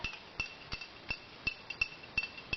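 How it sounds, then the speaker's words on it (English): A spoon clinks rhythmically against a glass while stirring a honey, lemon and ginger detox drink, about a dozen light, quiet taps coming in a steady, slightly uneven beat. "Stir it good,"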